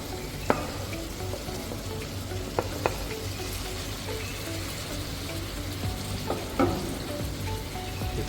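Tomatoes hit a hot chicken curry pan with a steady frying sizzle, a few sharp clicks and spatters rising above the continuous hiss, no voices.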